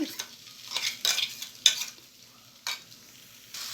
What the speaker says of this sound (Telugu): మనం బాగా మొత్తం అంతా మిక్స్ చేసేసుకోవాలి ఇలాగా కలిపేసుకోవాలి